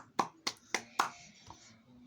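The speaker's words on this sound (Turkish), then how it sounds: "şu sana kazananlar için bir alkış alalım." Sharp handclaps come four times in an even rhythm, then a fainter fifth, sounding like one nearby person clapping for winners in a quiet room.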